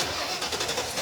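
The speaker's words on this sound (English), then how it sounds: "a little known feature of the digital multimeter is if you just take the wire off and jump it from here to there, you could start the car" A car engine cranks and catches after the relay wire is jumped with a multimeter lead. The burst is brief, broadband and fairly close, with no talk over it.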